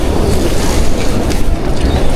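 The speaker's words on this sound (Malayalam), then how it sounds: "ഫുള്ള് മഴ കേട്ടോ" Heavy rain pours down in a steady, dense wash of hiss and patter, close and loud throughout, with no voices.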